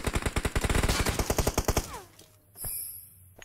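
Rapid automatic gunfire from the battle royale game BGMI (PUBG Mobile) bursts out loud and close in a fast steady rhythm for about two seconds, then cuts off, followed by a faint whoosh and quieter game effects.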